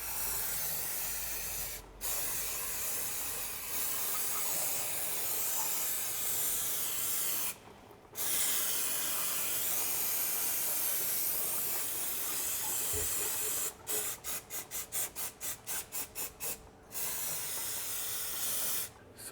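Cleaner sprayed onto automatic transmission parts in a workshop, a long steady aerosol hiss broken by a few pauses and a run of rapid short pulsed bursts near the end.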